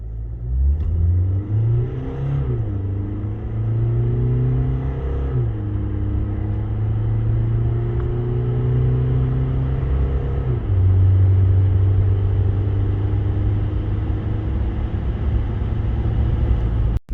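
A SsangYong Musso Grand 2.2 diesel with automatic gearbox accelerates hard to 100 km/h, its engine note climbing through rising pitch sweeps broken by distinct gear changes, heard from inside the cabin over steady road rumble.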